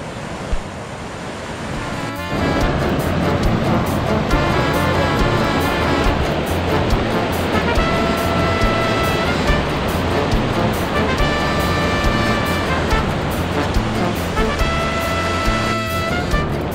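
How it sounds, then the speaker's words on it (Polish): A large waterfall in Brazil roars as a constant, dense rush of falling water that swells up after a quieter opening couple of seconds and holds steady and loud, with faint tonal ringing running through it. "Tutaj spada woda."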